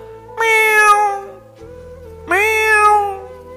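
A cat meows twice, two clear, drawn-out calls separated by a short pause, close and fairly loud.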